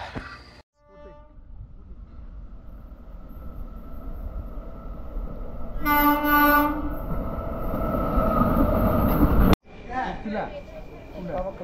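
Trains roll past a railway platform with a steady, heavy rumble. A loud horn blast sounds partway through, and the noise cuts out abruptly near the end.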